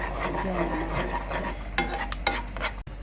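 Coconut milk simmering in a pot for green chicken curry is stirred continuously, giving a steady scraping, rubbing sound over a soft bubbling sizzle, with a few sharper utensil knocks near the end.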